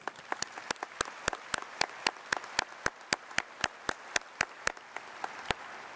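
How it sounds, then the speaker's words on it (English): Close, crisp handclaps ring out at a 2022 high school graduation ceremony, fast and evenly paced like one nearby clapper over quieter scattered applause, thinning out near the end. "Let's give them a round of applause."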